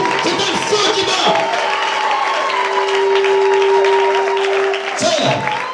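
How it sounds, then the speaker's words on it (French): Church congregation applauding and cheering loudly for the Lord Jesus, dense clapping and shouts filling the room continuously, with a sustained tone ringing through the middle before the crowd noise swells again near the end. "Acclamez très fort le Seigneur Jésus."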